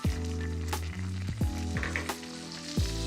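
Flour being stirred into melted butter in a pan, giving a steady close sizzle and frying hiss broken by a few sharp scraping strokes of the spoon, with no talking.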